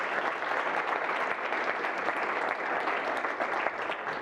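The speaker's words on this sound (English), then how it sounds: "If you can give an applause to Thomas, please." An audience at a European organic food and farming congress applauds steadily, a dense, even wash of clapping that holds at a constant level throughout with no voices over it.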